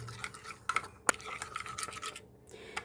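Crab roll filling with basil and Himalayan salt being stirred by hand in a bowl, with intermittent scraping and clinking of a utensil against the dish, including one sharp clack midway.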